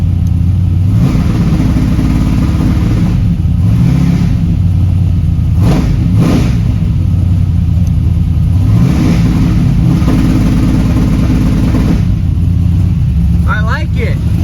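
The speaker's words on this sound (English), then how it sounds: "let's see if she'll fire up. And let's hear the two-step." A Chevrolet C10 sleeper pickup fitted with a two-step launch limiter, its loud engine idling roughly and then revving repeatedly in rising and falling pulls, with crackling bursts near the end.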